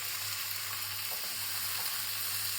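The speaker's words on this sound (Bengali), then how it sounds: "মূলো কেটে রেখেছিলাম, মূলো অ্যাড করলাম" Cut radish frying in hot oil with fenugreek seeds, a steady close sizzle and crackle with a low hum beneath, continuous and fairly loud, no voices.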